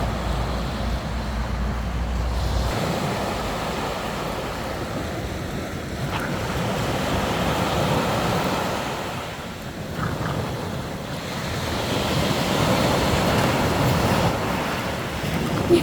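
Waves roll steadily onto an East Sea beach on a warm evening, a continuous loud surf wash with wind buffeting the microphone and no voices.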